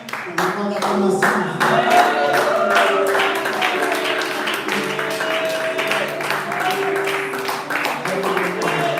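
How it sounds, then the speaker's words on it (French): A church congregation claps together in a sustained burst of applause, dense and steady throughout, with voices and cheering mixed in. "Est-ce qu'on peut lui donner un moment d'acclamation?"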